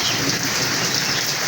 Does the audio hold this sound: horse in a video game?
no